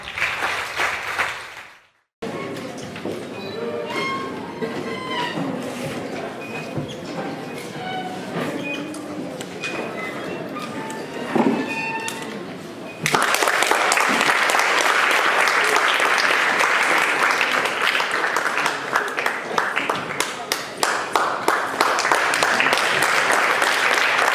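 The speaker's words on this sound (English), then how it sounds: "Can you clap for the Vice Chancellor?" A launch event audience for the OctoStudio app at Makerere University in Uganda breaks into loud, sustained applause after a stretch of amplified speech, and the dense clapping fills the rest of the clip.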